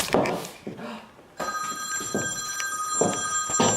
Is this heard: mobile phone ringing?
yes